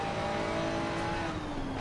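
Race car engine in a racing sim endurance race at Barcelona, a steady high-revving drone with whining harmonics that shift slightly as one car overtakes another, loud and continuous.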